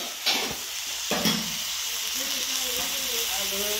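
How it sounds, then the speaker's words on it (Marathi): Dry chickpea chana sukka stir-fries in a kadhai wok, with a steady close sizzle and hiss punctuated by a couple of scraping stirs, and a voice murmuring faintly toward the end. "सुकी आता टाकली कढईमध्ये"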